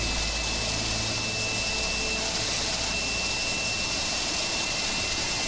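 The engine of a Mini-500 light helicopter in a video game gives a steady, dense roaring whine that stays even and close throughout, with no speech.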